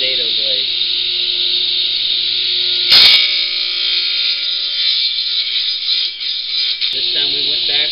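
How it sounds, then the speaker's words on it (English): Power saw cutting wood for whirligig propellers, a loud sustained high whine biting into the blade's cut with a sharp knock partway through, and someone speaking briefly at the start and end. "Now I cut through the line"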